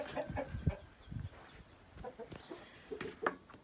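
A nervous broody hen clucks in short uneven bursts on a farm while the coop is tended, the calls close and moderately loud over faint background clatter.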